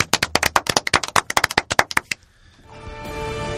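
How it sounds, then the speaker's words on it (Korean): A short burst of lively clapping from a small group in a podcast studio, quick and crisp, stopping abruptly and leaving a quiet hum behind. "박수로 이 시간 마무리해 보죠"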